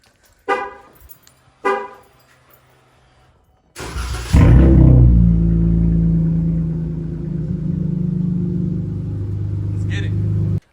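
A Toyota Chaser JDM car gives two short beeps, then its engine cranks and fires with a sharp loud burst. It settles into a deep, steady idle rumble close by.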